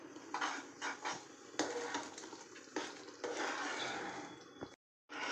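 A spoon stirs and scrapes through raw mango aam panna concentrate cooking in a pan, making soft intermittent wet scraping strokes at close range, with a brief moment of silence near the end.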